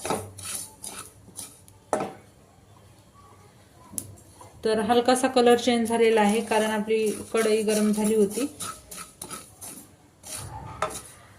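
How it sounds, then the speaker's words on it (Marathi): Poppy seeds dry-roasting in a hot kadhai for gond laddoos crackle in quick, scattered pops, with a spoon scraping and stirring against the pan; someone talks over the first few seconds and again near the end. "जोपर्यंत आपली खसखस तडतड आवाज करत नाही तोपर्यंत आपल्याला भाजून घ्यायची आहे"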